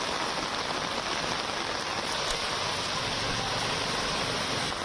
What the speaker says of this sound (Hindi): मूसलाधार बारिश का दौर यहां पर जारी है